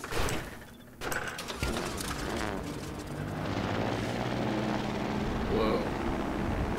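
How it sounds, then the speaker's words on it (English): A plane's engine hums and whirs in the Trailmakers building game, a steady mechanical drone with clunks near the start, under a voice talking over it. "Give ourselves a plane."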